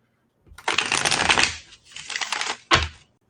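A deck of tarot cards is shuffled close up in two long riffling bursts, followed by a short final snap of the cards.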